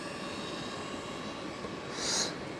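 A DJI FPV drone flies with a steady, droning motor whine at moderate volume, swelling briefly louder near the end as it passes close.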